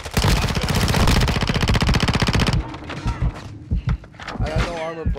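Rapid, evenly spaced suppressed pistol shots in a co-op shooter game fire in a loud steady burst for a few seconds, then give way to scattered thuds as someone talks excitedly over them.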